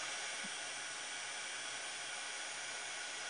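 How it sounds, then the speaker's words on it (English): A hair dryer or hot air gun blows steadily, a constant close whooshing roar that stays even throughout, used for drying Mod Podge on a napkin in a planner craft session. "So we're gonna get a hair dryer out now, friends, or our hot air gun."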